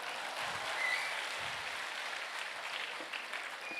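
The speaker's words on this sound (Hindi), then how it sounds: "एक बार मेरे लिए भी तालियां बजा दो।" An audience at a musical evening in a Bangalore venue applauds in a steady, dense wash of clapping that stays fairly soft and distant for the whole stretch, with no talk over it.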